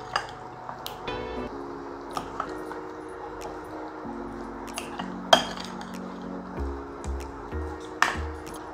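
Spices such as green cardamom, oregano and garam masala are mixed into chicken in a bowl, giving soft squishing with scattered clinks and taps of a utensil against the dish and a faint background hum.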